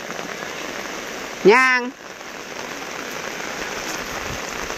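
Rain falls steadily over an outdoor market in a constant soft hiss, while a voice briefly speaks one word near the start.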